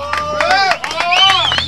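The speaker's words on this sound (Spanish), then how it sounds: "¡Fuerte el aplauso!" A studio audience on a late-night Mexican TV show claps in a quick burst of applause, with a loud voice talking over it.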